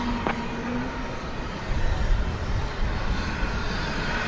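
Fixed-wing airplane taking off at DFW Airport at night, a steady broad engine roar that swells slightly midway and holds at moderate distance, with a brief tonal whine near the start.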